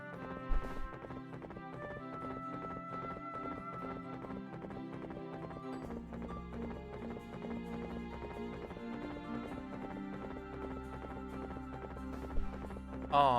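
Horse hooves clip-clop in a video game over layered game music, a quick run of hoofbeats at the start that gives way to a steady musical bed, fairly quiet overall.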